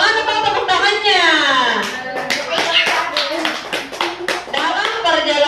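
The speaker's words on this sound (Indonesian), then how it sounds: "Tepuk tangan dulu buat Nopal." Kindergarten children at a quiz competition clap their hands together in quick, rhythmic bursts while young voices and an adult talk over the claps.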